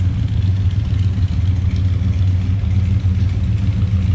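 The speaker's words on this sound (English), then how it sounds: "Have a throaty exhaust coming out of that" The 429 V8 engine of a 1965 Cadillac DeVille convertible idles steadily with a deep rumble and a throaty, burbling exhaust note, loud and close, with no voices.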